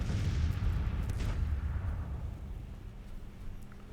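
Deep booming artillery fire from a Civil War battle in Grand Tactician: The Civil War, a heavy rumbling barrage that is loud at first and slowly fades into a distant roll.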